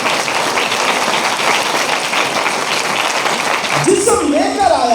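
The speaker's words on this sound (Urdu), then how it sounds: "آئیے اس کے جسم میں ظاہر ہونے کے لیے ذرا تو زوردار تالیاں بجائیے۔" A church congregation claps loudly during a pastor's sermon, a dense sustained wash of applause from many hands, with a voice rising over it near the end.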